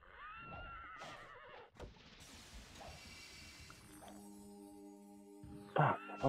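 A horse whinnies in a video game during a fight, the neigh rising near the start amid crashes, impacts and game effects, with a sustained tonal chime later and a sharp hit at the end.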